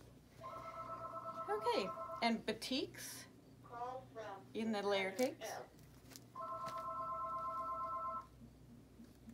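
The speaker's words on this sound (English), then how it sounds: "And I think the phone's gonna ring." A telephone rings in a quilt shop, two long electronic rings a few seconds apart, with people talking between them.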